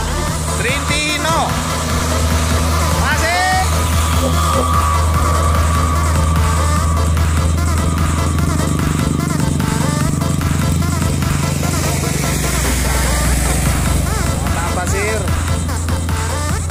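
A Hino truck climbs a steep hill, its engine droning loud and steady close by under continuous talk, with another heavy engine rumbling in the background.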